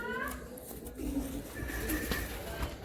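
Madrasi pigeons coo in low, soft repeated calls at a loft in Howrah Ranihati, close by with some background noise and occasional chatter.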